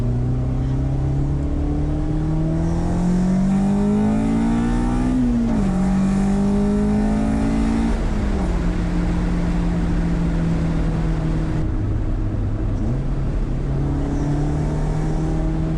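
A restored manual Honda CRX with a B16 engine drives and accelerates, its engine note rising steadily through the gears with brief dips at each shift, loud and close from inside the car.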